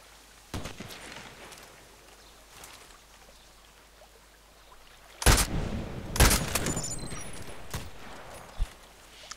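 Sniper rifle shots in the Contract Wars shooter on the Lighthouse map: a few sharp, isolated cracks, two loud close ones in the middle and fainter single reports before and after, with no voices.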